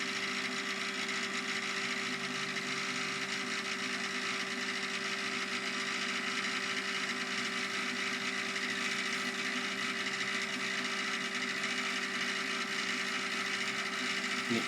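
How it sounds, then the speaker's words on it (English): A Davey sump pump runs steadily and close, giving a constant mechanical hum with a whining buzz and a faint rattling texture, unchanged throughout, with no voices. "I'm just waiting for this pump to switch off."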